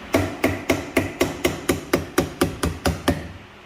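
A hammer strikes a chisel to drive out a Honda Foreman swing arm bearing, twelve sharp metallic blows in an even, quick rhythm, close and loud, each ringing briefly before the next.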